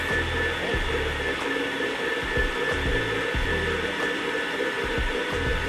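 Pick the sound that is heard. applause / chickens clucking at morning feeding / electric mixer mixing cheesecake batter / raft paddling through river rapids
electric mixer mixing cheesecake batter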